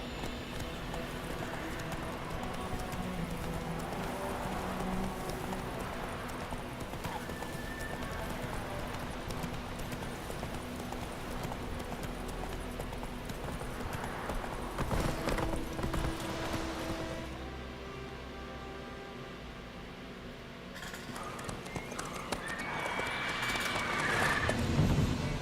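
Hooves of a horse clip-clop steadily in The Witcher 3 as it gallops, a continuous rhythmic beat under game ambience with a brief shift in background noise near the end and no speech.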